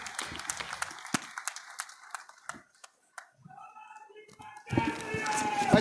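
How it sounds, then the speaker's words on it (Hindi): Applause from the crowd at a political rally in Loharu, Bhiwani-Mahendragarh, with scattered claps that fade into a near pause and then a loud burst of clapping and cheering at the end. "ताली बजाओ पीछे तक सारे, जोर जोर से ताली बजाओ।"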